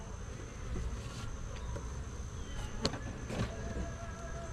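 Honey bees swarm around two hive boxes in October, a steady buzzing drone with individual bees zipping close past now and then.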